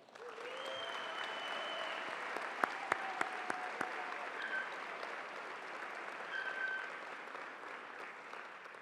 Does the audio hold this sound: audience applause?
yes